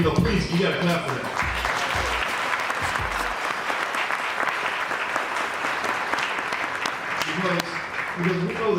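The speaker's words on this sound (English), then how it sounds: "Please, you gotta clap for that" An audience at a St. Louis empowerment panel discussion breaks into sustained applause mixed with cheers. A voice talks at the start, the clapping swells to a steady roar, and speech returns near the end.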